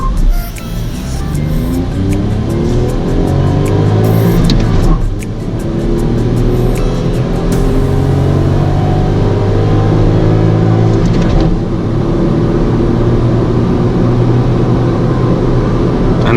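A Ford Freestyle with a 1.2 litre Dragon series petrol engine accelerates hard at full throttle. The engine note climbs loudly and steadily through the gears, with brief dips at the shifts, heard from inside the cabin.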